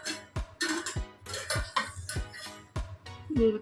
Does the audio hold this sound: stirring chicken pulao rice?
yes